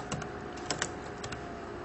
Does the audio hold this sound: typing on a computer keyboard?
yes